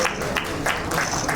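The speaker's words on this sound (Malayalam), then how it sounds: "നമുക്കൊന്ന് കൈയടിച്ച്." Crowd clapping at a film trailer launch event on stage, a brief, even burst of applause from many hands, fairly loud with faint voices mixed in.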